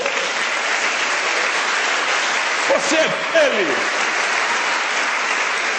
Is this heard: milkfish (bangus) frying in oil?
no